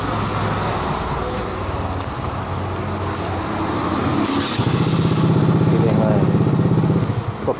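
A car engine turning over and settling into a steady idle after a remote start from a Zoomer car alarm system, rising near the end over a low background hum.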